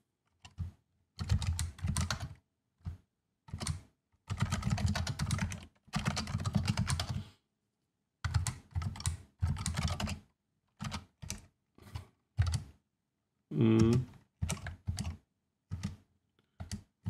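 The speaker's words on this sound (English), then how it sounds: "I can't press keys on my keyboard" Computer keyboard typing during a programming session, with bursts of rapid key clatter broken by short pauses, close and clear with no talking.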